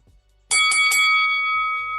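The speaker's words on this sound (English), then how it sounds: "Ring the bell." A bell rings to open a main event, three quick metallic strikes that blend into a single bright, sustained ring and hold loud without fading.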